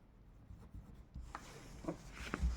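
Pen or marker writing by hand on a board or page during a maths lesson, a few short scratchy strokes that grow slightly louder toward the end, close and quiet with no talking.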